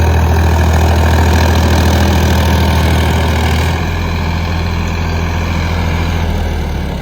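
A Farmtrac 60 tractor engine works under load pulling a 22-disc harrow, a loud, continuous deep diesel drone heard up close that eases slightly partway through, with no talk.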